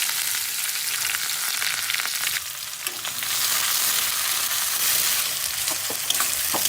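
Chopped onion frying in mustard oil with cumin, dried chili and bay leaf, a loud, dense, continuous sizzle up close with occasional stirring, no talking.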